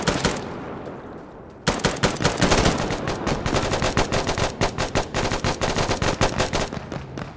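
Automatic and rapid gunfire in the shooter game Insurgency Sandstorm, loud bursts of close shots that start abruptly and keep rattling in a dense, irregular volley with no talk.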